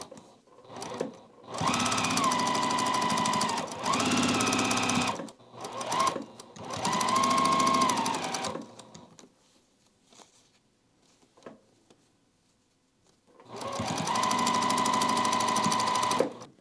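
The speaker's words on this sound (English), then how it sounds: "So when we sew right along this edge, we'll have a nice point right there in the center." A sewing machine stitches a quilt block seam in three bursts of steady fast whirring, each a few seconds long, with quiet pauses between them.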